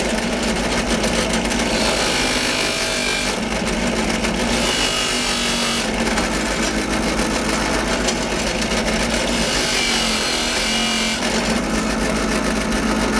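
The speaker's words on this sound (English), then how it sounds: "I had already cleaned this disc up, but I want to do a little more polishing on it" An electric drill polishes a motorcycle brake disc, a loud, continuous whirring grind with a steady motor hum and rough abrasive texture that surges slightly in waves, close by with no talk.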